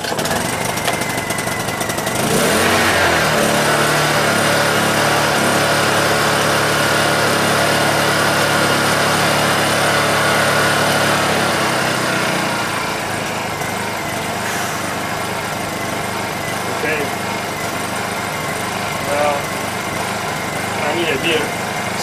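A Honda EU2000i generator engine runs after a pull start, with a loud, busy buzzing drone that eases slightly partway through, and a person speaks over it.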